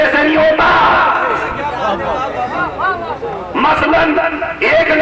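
A crowd of young men at a religious majlis gathering shout back loudly in unison, a long swelling collective response with a second loud burst near the end.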